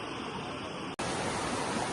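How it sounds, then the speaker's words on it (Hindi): A waterfall at Manthokha in Skardu pours in a steady, dense broadband roar, close and even, with a single split-second dropout midway before the rush resumes. "ये है वाटरफॉल।"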